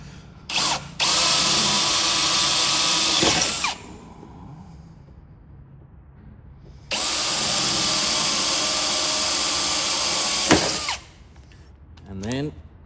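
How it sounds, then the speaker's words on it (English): A power drill boring a small pilot hole into an aluminium pole, running in two sustained loud whining bursts of about three and four seconds with quiet pauses and faint handling noise between them. "first I like to drill with a pilot hole,"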